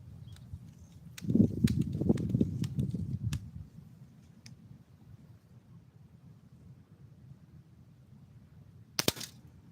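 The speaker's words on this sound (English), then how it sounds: "Alright, first shot, first hit, let's go." A Daisy 880 pump air rifle, charged with five pumps, is fired at a can. A rumbling, crackly burst comes early, then a sharp, loud double snap near the end against quiet background noise.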